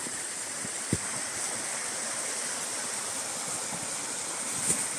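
A river flows in a steady, broad rushing wash of water, continuous and fairly close, with a couple of faint knocks and no talking.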